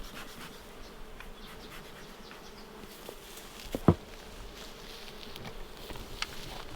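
A steady, close drone of many honeybees buzzing continuously around a beehive, with one brief knock partway through.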